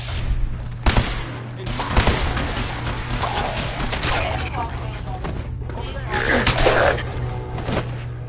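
Gunfire in Fallout 4 cracks and booms in scattered bursts and sharp single shots, mixed with crashes and thuds of combat at mid distance.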